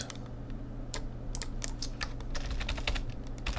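Keys clatter on a computer keyboard in quick irregular bursts of clicks while shortcuts are entered during Adobe Illustrator work, close and steady over a faint hum, with no talking.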